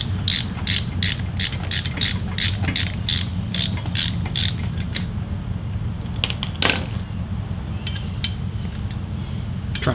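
Metal clicks and taps ring out in a quick series as the brake pad pin is worked free on a Harley-Davidson with ABS, followed by a pause, one louder clink and a few scattered light taps.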